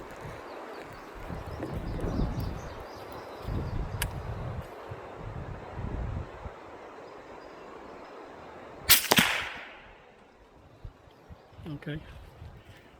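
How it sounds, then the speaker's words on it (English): A single suppressed shot from a Rossi Brawler firing Winchester 300 Blackout 200-grain ammunition gives a sharp crack with a brief tail, set against outdoor breeze and rustling, with faint talking before it. "And I'm shooting, see if you can see this, Winchester 300 Blackout 200 grain."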